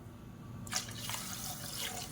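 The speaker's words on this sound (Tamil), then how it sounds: "1/2 லிட்டர் அளவுக்கு தண்ணி சேர்த்துக்கலாம்." Half a litre of water poured into a cooking pot, likely a pressure cooker, over sautéed ingredients for a South Indian side dish: a steady, close splashing gush begins after a brief quiet moment and runs continuously to the end, with no talking.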